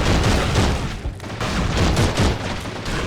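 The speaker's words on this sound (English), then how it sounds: "Those mortars aren't very far away. They're destroying my shitty house." Mortar explosions close by in Call of Duty 3 on PS2, with a loud continuous barrage of thudding blasts mixed with gunfire and no clear talk.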